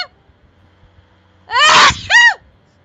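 Two loud, close sneezes from a person in quick succession, the first long and explosive, the second shorter, with near silence before them.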